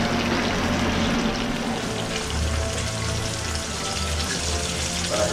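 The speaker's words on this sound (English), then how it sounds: "Wash my hands." Tap water runs steadily while hands are washed in a home kitchen sink during cooking, a constant broadband hiss and splash at moderate level with no voices.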